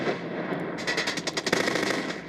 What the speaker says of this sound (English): We can also introduce various sounds as you're driving down the road. Explosions,